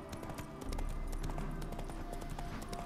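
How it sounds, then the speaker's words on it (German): Rapid clip-clop of horse hooves trotting over a steady low rumble in the video game The Witcher 3: Hearts of Stone, fairly close and continuous, with no talking. "Du machst mein Pferd scheu."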